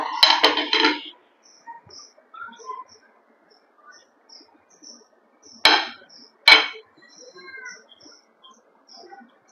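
A knife cuts through a freshly baked, still-warm eggless mango cake, giving a short burst of scraping at the start, then two sharp clinks of the blade against the tin and scattered soft taps in an otherwise quiet kitchen.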